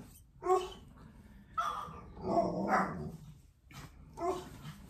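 A dog barks outside a front window, several sharp barks and yips in uneven bursts, moderately distant and muffled through the glass.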